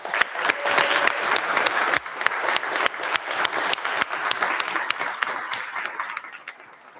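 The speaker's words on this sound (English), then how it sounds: "So can we give them all a round of applause?" An audience applauds at the Daegu Middle High School graduation ceremony, with brisk, crisp clapping from a modest crowd, clearly separated claps that thin out and fade toward the end.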